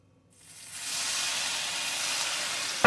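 Water added to a hot pan of fluffy French lemon pancakes bursts into a rising, steady steam hiss that swells after a quiet start and holds until a short knock at the end.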